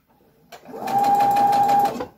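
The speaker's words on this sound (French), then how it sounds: "Vous diminuez un peu la vitesse de votre machine parce que ça part très vite." A sewing machine stitches the binding onto a baby bodysuit, a short steady whirring run that starts abruptly, holds for about a second and a half with a constant motor whine, then stops.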